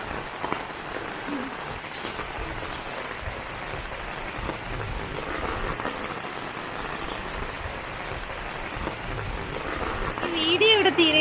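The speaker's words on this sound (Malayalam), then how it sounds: "ഭയങ്കര മഴ" Heavy rain pours steadily over an outdoor trekking spot, a dense continuous hiss of drops hitting surfaces that swells louder near the end.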